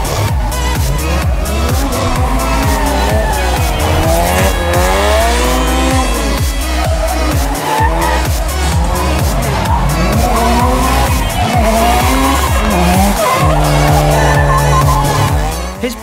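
A drift car does a practice run on a track at a drift show in Malta, its engine revving up and down hard under long, loud, continuous tire squeal and skidding.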